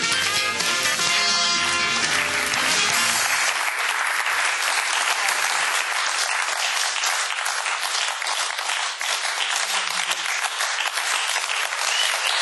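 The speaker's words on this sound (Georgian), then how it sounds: "ესეთი ტაში მე არ მახსოვს ჩემ." Loud, sustained studio audience applause greets a singer as she arrives on a Georgian television talk show, a dense wash of clapping filling the whole stretch with no talking over it.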